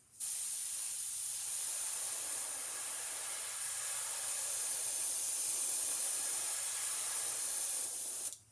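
An airbrush sprays inks onto a small hologram fishing lure in one continuous steady hiss, close and even, that starts and stops abruptly.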